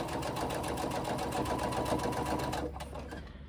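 A sewing machine stitches near a swivel clasp on a bag strap, running steadily and close with a rapid rhythmic needle chatter, then slowing and stopping near the end.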